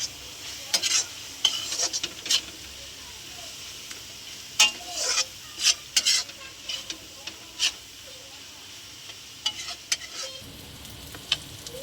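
Cumin, coriander and red chili powder being sautéed and stirred in hot oil for mutton biryani, with repeated scraping stir strokes over a low, steady sizzle, close and moderately loud, no talking.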